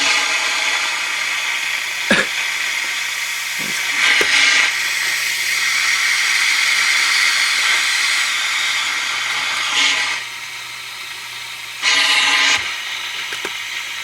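Welding gas hisses from a hose after a valve is cracked open, a loud steady hiss with a few short bursts and a drop in level near the end, alone without talk.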